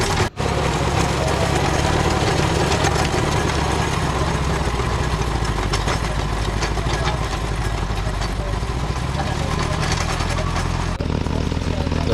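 A tractor engine runs loud and steady close by, a continuous rough rumble that carries on almost without a break.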